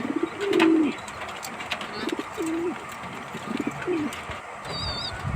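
Domestic pigeons cooing close by in repeated soft throaty bursts with pauses between, alongside faint chirps and light background movement.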